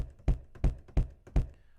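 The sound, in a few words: pitched-down filtered kick drum sample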